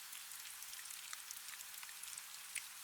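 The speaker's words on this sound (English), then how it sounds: "moving across the dark in that quiet, unhurried way that rain has always moved" Gentle rain falls steadily in a soft, even hiss, with tiny scattered drips and taps over it, faint and distant, with no voices.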